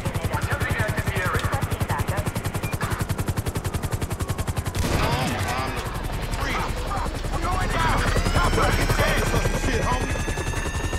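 Rapid, steady helicopter rotor chopping in GTA 5 dominates the first half, then shifts into a rumbling engine wash with a rising whine; talk and game noise mix in.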